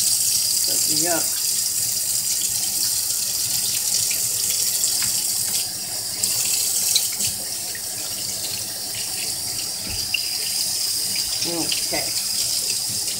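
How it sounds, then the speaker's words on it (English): Tap water runs steadily into a kitchen sink during hand washing after rinsing oxtail, a continuous close splashing rush with brief spoken remarks over it. "I just got to wash my hands again."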